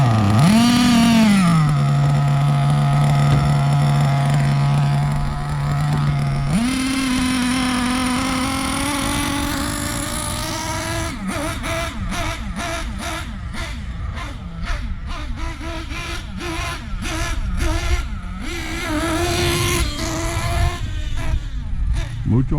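A Hobao Hyper SST RC buggy's nitro engine idles with a steady high buzz after an idle adjustment, then blips and revs in short bursts; a person talks over it.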